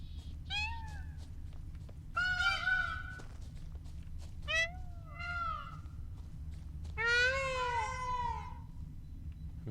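Peacock calls in the Witcher 3 Blood and Wine video game: four loud, wailing, meow-like cries in separate bursts over a steady low ambient hum.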